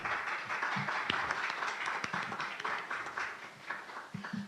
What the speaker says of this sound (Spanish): Les pido un aplauso para ellos, por favor.